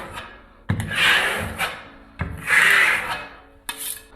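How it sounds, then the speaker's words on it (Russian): A spatula spreads decorative plaster across a wall in three long, close scraping strokes, each starting with a tap and swelling into a rough rasping sweep before falling away. "Просто как шпателем берем и переносим материал."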